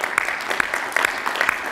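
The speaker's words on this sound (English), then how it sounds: "Give yourselves a round of applause," Audience at the American Identity Summit opening remarks clapping together, a dense, steady patter of many hands at moderate distance, holding level throughout.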